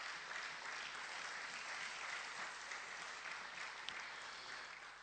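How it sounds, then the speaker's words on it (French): A church congregation claps loudly during a French-language service, a dense, steady wall of applause that holds at full strength for about five seconds before easing slightly at the end. "Est-ce que nous pouvons acclamer très fort pour la parole du Seigneur?"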